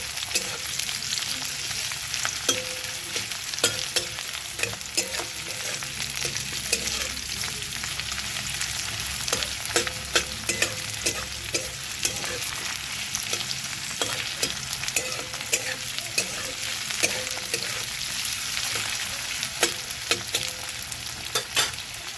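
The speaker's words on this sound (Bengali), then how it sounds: "পেঁয়াজ রসুন লঙ্কা ভালো করে ভেজে নেবো" Onion, garlic and chili fry together in a pan before red amaranth greens go in, making a constant close sizzle punctuated by frequent rhythmic spatula scrapes and taps, with no talking.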